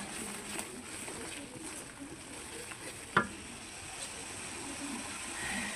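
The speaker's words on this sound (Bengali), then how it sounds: "ভালোভাবে মিক্স করে নিচ্ছি এগুলো।" Spiced food being stirred and mixed in a pan, faint scraping and a soft sizzle with one sharp clink of the utensil partway through.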